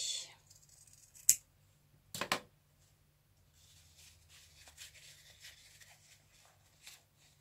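Scissors notch the corner of a sewn fabric fly: two crisp, close snips a second apart, followed by quieter rustling and handling of the cloth.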